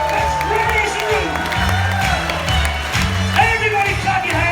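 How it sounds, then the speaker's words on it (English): Crowd applause and cheering welcoming the London Philharmonic Orchestra, a dense steady wash of clapping and shouts under loud music and an announcer's voice. "with a huge round of applause, make some noise as we invite the London Philharmonic Orchestra"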